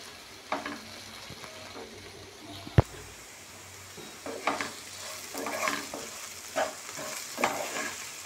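Okra (bendakaya) rice frying in a pan over a medium flame with salt and turmeric, a soft steady sizzle broken by several sharp spatula scrapes and stirring clinks, close and moderately quiet.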